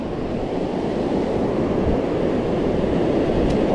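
Strong sea waves wash against the shore at a fishing spot in Oman, heard as a loud, continuous roar of surf mixed with gusting wind noise on the microphone and no talking.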